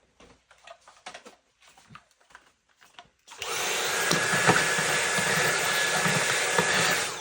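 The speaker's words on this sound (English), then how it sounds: "Always handy to have a vacuum around." A vacuum cleaner starts up during an off-road mount install, after a few seconds of faint clicks and handling noises, then runs as a loud, steady whooshing roar until the end.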